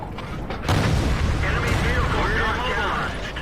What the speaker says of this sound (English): SU-100's just taken quite a whack from the KV-2